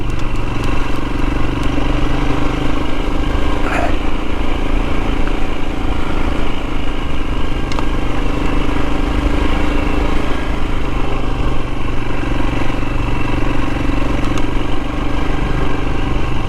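A Royal Enfield Himalayan motorcycle riding Cornish country lanes, its engine thrumming at a steady pace with rattling and wind rush, loud and continuous without letup.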